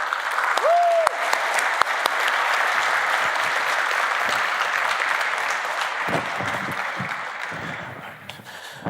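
Sustained applause from a conference audience at a tech event, dense and steady throughout, with a brief whistle near the start and the clapping thinning slightly toward the end.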